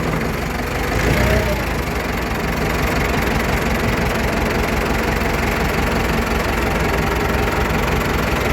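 A vehicle engine runs under load in gear, a loud steady rumbling drone with knocking texture and a slight swell near the start, with no voices.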